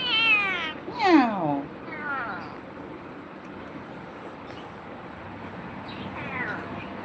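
A lost pet cat meows several times, with loud, close drawn-out calls near the start and a fainter meow later, over quiet background noise.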